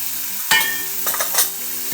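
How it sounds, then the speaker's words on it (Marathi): Turmeric tipped into hot tempering oil in a pan with onion and tomato, giving a steady sizzle and frying hiss with a couple of stirring scrapes and clinks, no talking. "थोडीशी हळद टाकते फोडणीमध्ये"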